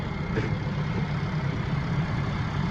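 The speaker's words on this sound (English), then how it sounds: "nice quiet sounding engine with no abnormal noises" A 2019 Nissan Altima's 2.5-liter naturally aspirated dual-overhead-cam four-cylinder idles steadily and quietly, a smooth low hum with no knocks or other irregular noises.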